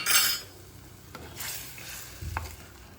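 Boiling water poured into an onion sambar in a pan, with an initial splash and sizzle followed by quieter stirring and a few soft utensil knocks, close and without talk.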